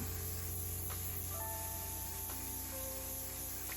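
An airbrush sprays colour onto nails with a steady, close, continuous hiss that runs unbroken throughout, with faint tonal hums underneath.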